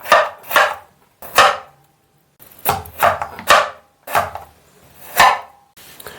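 A knife chops peeled potatoes for Bankura-style aloo posto in sharp, uneven strokes, about nine distinct cuts with brief pauses between groups. The sound is close and has no talk over it.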